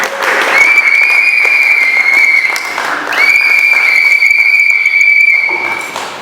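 Audience applause at a school certificate award ceremony, sustained clapping for six seconds over which a long shrill whistle sounds twice.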